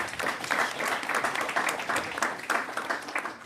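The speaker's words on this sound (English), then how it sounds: "Round of applause." Conference attendees at a European batteries policy event give a short round of applause, moderately quiet and steady clapping throughout.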